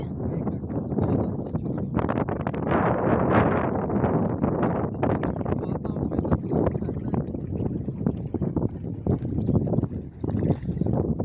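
Strong wind roars and buffets the microphone in a steady, loud rush that swells and dips without pause.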